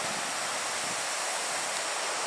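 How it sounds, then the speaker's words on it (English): A mountain stream on the way to a waterfall on Doi Inthanon rushes as a steady, dense, full-bodied roar of flowing water, close and unbroken, with no voices over it. "you can see the stream down there"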